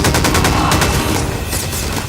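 Rapid bursts of gunfire in Garry's Mod crackle continuously, loud and close, with dense overlapping shots throughout.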